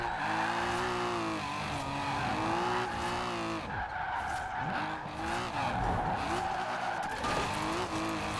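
Tires skid and squeal steadily as a wide-body car slides sideways through a drift in Forza Horizon 4. The engine whines loudly underneath and swells and dips across the slide.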